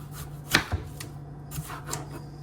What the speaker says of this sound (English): then we're just gonna dice it up real quick